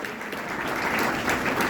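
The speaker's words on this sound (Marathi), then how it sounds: "टाळ्या जोरात वाजल्या पाहिजे" An audience applauding at a kirtan performance in a hall, a dense, steady wash of many hands clapping that swells slightly, with no voices over it.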